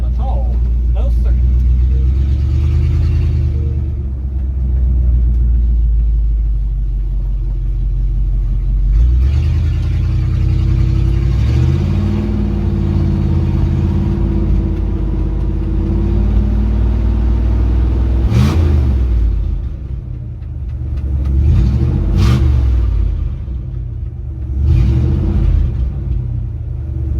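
A 1971 Dodge D100 pickup engine runs close by in a deep, steady rumble that swells with a few revs, while voices are heard over it.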